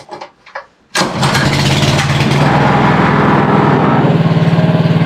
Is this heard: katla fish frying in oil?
no